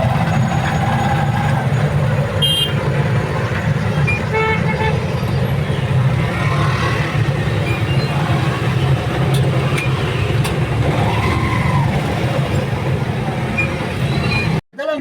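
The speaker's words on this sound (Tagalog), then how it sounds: "Sumakay na kami ng tricycle." Riding along in a motorized tricycle through traffic, with a constant droning engine and road rumble close by, horns tooting from surrounding vehicles, and a brief sharp bump right at the end.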